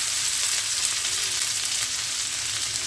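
Onion, tomato and green chilies fry in a pan over medium-high flame, giving a steady, loud, unbroken sizzle with faint stirring underneath.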